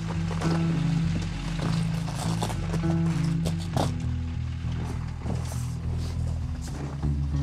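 Horse hooves clip-clop in a steady walking rhythm on the walk up to a rodeo arena in Montana, with a low rumble of activity in the background.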